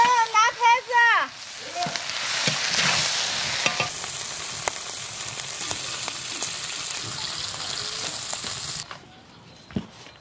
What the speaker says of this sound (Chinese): 最后来一勺红油，炒一炒出锅。